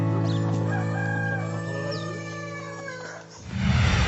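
Meat-bird chickens on a homestead: a rooster crows near and loud over a steady low hum, with clucking and other birds faintly around it.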